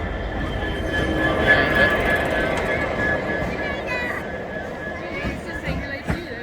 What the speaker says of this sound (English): A pair of Class 66 locos.